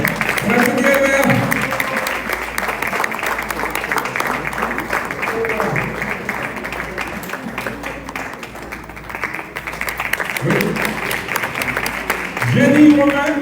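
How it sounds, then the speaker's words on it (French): An indoor audience at an evening event honoring women's creative work claps steadily and fairly loudly for about thirteen seconds, with voices talking over the applause throughout. "on applaudit elle-mère."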